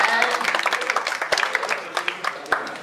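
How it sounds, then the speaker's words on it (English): An indoor audience at a contest prize ceremony applauds the winners with a short, dense burst of clapping that gradually thins out. "please clap for all the winners"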